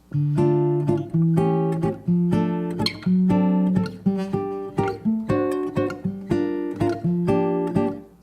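A guitar strums Brazilian choro comping chords in an even, steady rhythm of repeated short strokes, with undotted bass notes on each beat, played alone and clearly.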